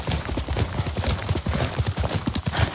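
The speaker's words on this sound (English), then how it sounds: "Yuriko's horse." Horse hooves clip-clop in a steady, close rhythm across a hard surface in the Ghost of Tsushima video game, with no talk over them.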